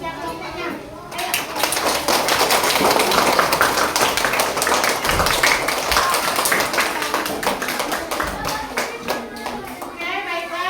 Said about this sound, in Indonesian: berikan tepuk tangan untuk temanku dari kelompok 1 yang telah mempresentasikan hasil kerja kelompoknya